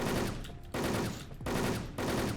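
Three bursts of rapid automatic gunfire from the online shooter Wolfteam, each lasting about half a second with short gaps between, loud and close.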